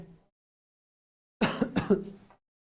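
A short burst of several harsh coughs in quick succession, close by, after a moment of silence.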